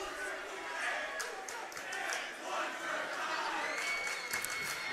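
A high school state playoff basketball crowd murmurs and jeers at a missed free throw, a steady loud wash of voices and scattered claps filling the gym while an announcer talks over it.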